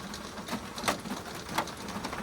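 Hard rain pounding outside a van, a dense continuous patter with a few louder splashes standing out, steady and close, with no voices.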